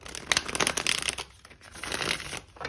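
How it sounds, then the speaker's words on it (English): A tarot card deck being shuffled by hand, close up: a dense run of papery riffling and crinkling bursts, steady for the first part, a brief lull, then another stretch of rustling. "I will give the deck a few more shuffles"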